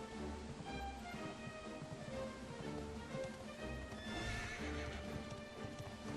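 A horse gallops steadily in the video game Dragon Quest XI S, its rhythmic clip-clop hoofbeats running throughout with a whinny mixed in, over a constant backdrop of game ambience and music.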